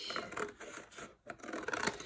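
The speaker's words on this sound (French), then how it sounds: "avec les ciseaux, vous allez enlever le triangle en suivant la ligne que vous venez de marquer" Scissors cutting a triangle off a paper gift box, a few short crisp snipping and scraping strokes through paper close by, with a brief pause midway and no speech.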